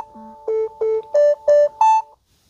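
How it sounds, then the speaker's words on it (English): A Galaxy Watch 4 plays its water-eject tone to push water out of its speaker, a series of five short, loud buzzing tonal bursts rising slightly in pitch, heard close and alone. "that noise is used to expel all of the water that might have gotten in the speaker"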